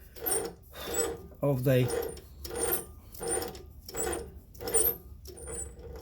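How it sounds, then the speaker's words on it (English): Hand-wound cutting tool slowly threading a trumpet valve stem, giving a regular rhythmic scraping and creaking roughly every second, quiet and close, with a brief voice partway through. "now I'll just wind this by hand, and it'll move it forward, and it's only cutting on the front"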